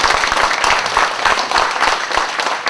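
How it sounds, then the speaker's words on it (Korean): Audience applause welcoming a lecturer, a dense burst of many hands clapping, loud and steady throughout. "귀한 강사님 박수로 환영하시겠습니다."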